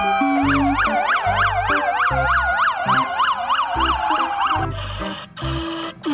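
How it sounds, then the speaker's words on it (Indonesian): Toy police car siren wailing in rapid, repeated rising-and-falling sweeps over electronic melody beeps, loud and close, stopping near the end. "Lihat teman-teman, ini mobil polisi."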